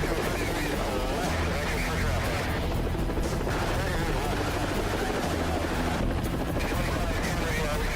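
Heavy gunfire from a big gun in an Armored Core video game trailer, loud and continuous, mixed with roaring engine-like rumble and speech throughout.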